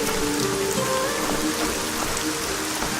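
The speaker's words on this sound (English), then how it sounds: "Damn rain!" Rain pouring steadily in the video game ArcaniA: Gothic 4, a dense, close patter of drops on surfaces with no voices.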